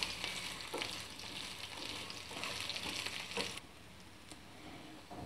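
Raw coconut pieces fry in a pan for coconut chutney, giving a soft, close sizzling hiss with light stirring that suddenly drops to a quieter simmer partway through.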